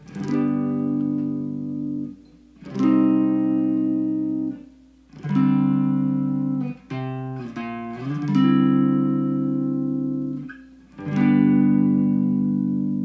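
Strummed guitar chords ring out one after another in a slow progression, each held for a few seconds with short gaps between, clear and close.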